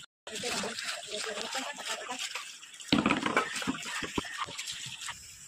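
Dishes being scrubbed at home on an open floor washing area, with water splashing and trickling and occasional scraping clatter, fairly close, and a voice talking over it.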